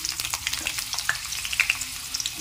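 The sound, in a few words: potatoes frying in oil while being stirred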